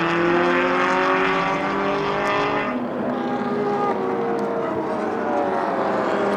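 A 1958 Porsche 356 racing at Goodwood, its engine note loud and close as it passes, pitch sliding from a high strained whine to a lower drone as it moves away, alone without talk.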